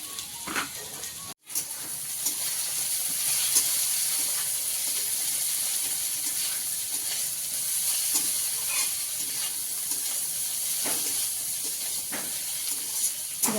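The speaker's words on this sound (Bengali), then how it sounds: "সবজিগুলো ভাজা হয়ে গেছে" Vegetables frying and being stirred in a pan while making egg chow mein, giving a steady close-up sizzle and hiss with occasional scraping stirs that run for the whole stretch.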